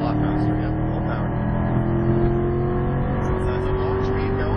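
Corvette C7 on a race track at Exotics Racing in Las Vegas, engine pulling hard under full acceleration, a loud continuous rising drone heard from inside the car with a voice speaking over it.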